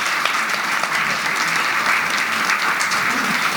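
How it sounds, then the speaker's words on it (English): Loud, dense applause from a gathered audience at a workshop session, close and steady throughout with no let-up and no voices. "let's give them a round of applause."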